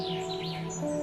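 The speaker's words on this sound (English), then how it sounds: "So this bird on my shoulder is the manifestation of the tuning's resonance?" A small bird perched on a character's shoulder in Honkai: Star Rail chirps with high, wavering tweets over a steady musical drone.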